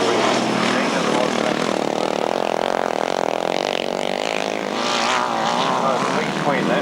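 Sidecar outfits race at a 1991 grasstrack meeting, including a V-twin and a 750cc multi-cylinder Suzuki, engines winding up into a loud sustained roar with rising and falling pitch as machines pass, while an announcer talks over it.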